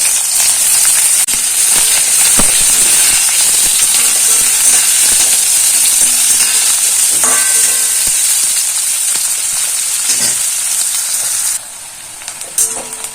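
Onions frying in oil in a kadai, a loud, steady hiss and sizzle close up, with occasional crackles and stirring scrapes, until the sizzle drops away abruptly near the end.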